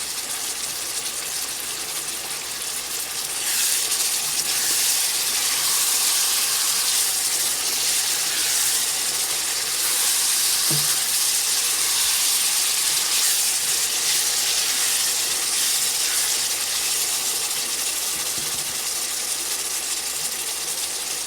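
Boneless beef with turmeric, whole cumin and salt fries in a pot as a loud, steady hiss and sizzle. It swells after a few seconds and then holds close and continuous, with no voices.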